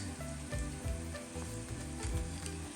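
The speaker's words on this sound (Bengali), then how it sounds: "তেজপাতা গোলমরিচ সবগুলো দিয়ে একটু ভালো করে ভাজবো" Whole spices, including bay leaves, black peppercorns, black and green cardamom and cloves, fry with onions in a hot pan for beef bhuna khichuri. A steady, close, loud sizzle carries occasional stirring scrapes, with no voices over it.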